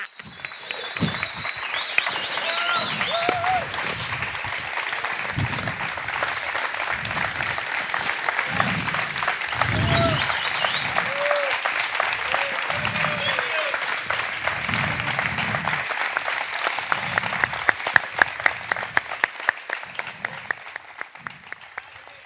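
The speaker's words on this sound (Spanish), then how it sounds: "Forte aplauso e disfrutar, bro." Sustained applause from a cabaret variety show audience, a dense, loud clapping that swells toward the end, with a voice speaking over it in bursts and cheering voices mixed in.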